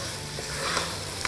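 Crab stirred in a hot pan with green curry masala gives a steady, close sizzle with light scraping from stirring, and no talk over it.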